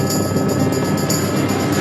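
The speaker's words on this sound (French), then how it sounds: "L'hélicoptère a rendez-vous avec d'autres fous de tempête que Kéru veut absolument filmer." A helicopter flies over a wild stretch of sea near the Île Vierge lighthouse in stormy conditions. Its rotor throbs steadily and loudly, close, with no other sounds.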